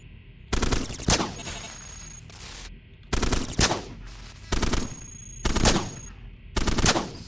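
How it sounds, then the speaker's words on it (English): Cannon fire in the video game Cogmind comes as five loud, evenly spaced synthetic bursts, each a rapid rattling barrage that decays into a brief electronic tail. "Firing a single cannon here,"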